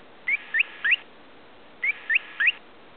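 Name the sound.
guinea pig stressed noise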